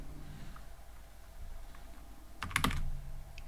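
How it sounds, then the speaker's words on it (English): Mostly quiet room tone, then a brief cluster of computer keyboard keystrokes clatters close by near the end as Python code is typed; no speech. "Next I will type here player text,"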